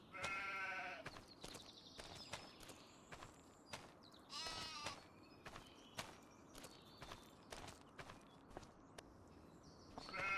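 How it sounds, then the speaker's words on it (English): Sheep and goats in a farm pen in Farming Simulator 25, with repeated short bleats over a busy mix of hoof clatter and footsteps, fairly close and steady throughout. "We have our sheep and goat pen here."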